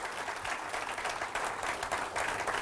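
Applause from an audience at a motivational training event in Mumbai, brisk steady clapping from a sizeable crowd at moderate loudness, unbroken from start to finish.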